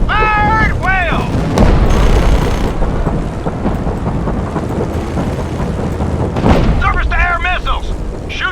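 Booming explosions and cannon fire in Just Cause 3 roll continuously and loudly, with heavy low rumbles, rising whistling projectiles and a person talking over the chaos.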